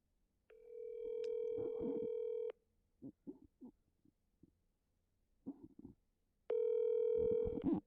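A telephone call rings out with two long, steady ringback tones. Between them come faint, muffled clicks and thumps.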